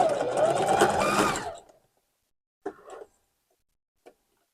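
Sewing machine stitching the fur band of a Santa hat, a steady close whir that runs for about a second and a half, stops, then gives way to a couple of faint clicks.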